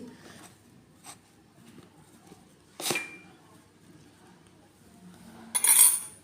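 Cucumber pieces tossed with salt and chili powder in a bowl for a quick pickle, heard as quiet scattered clinks and a few sharper knocks of a utensil against the dish, with no talking.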